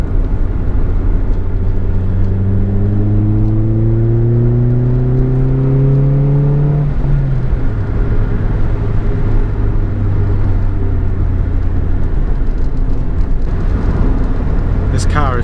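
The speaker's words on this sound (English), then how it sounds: "My gearbox is so whiny." A whiny gearbox on a Ford Fiesta Mk5 Zetec-S with a 1.6 engine, heard while driving: a rising whine climbs with engine speed, drops at a gear change, then settles under a steady road and engine rumble.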